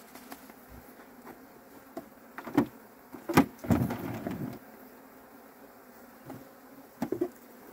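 Bees buzzing near a hive kept in a Texas pasture, faint whirring with several louder buzzes as individual bees pass close, no voices.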